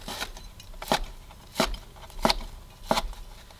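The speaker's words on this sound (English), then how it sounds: "I do like to cut the pork into bite-sized pieces" Five sharp knife chops cut cooked pork belly on a cutting board at an even, unhurried pace, close and crisp with quiet pauses between them.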